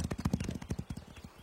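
Hooves clip-clop in a rapid, uneven rhythm as cartoon horses run in Horseland, a close patter of hoofbeats.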